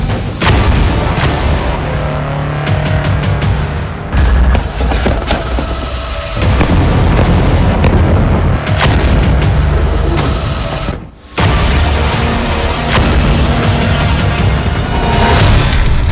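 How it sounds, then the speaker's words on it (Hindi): Israeli army artillery cannons fire in a long barrage, loud booms and sharp blasts following one another closely with brief gaps, dense and rumbling throughout. "इजराइल की सेना अधिक से अधिक तोपों का इस्तेमाल कर रही है"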